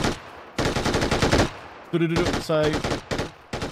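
Machine gun fire in the battle-royale game PUBG, loud rapid bursts with short gaps between them, punctuated by brief tonal in-game sounds, while a voice briefly speaks.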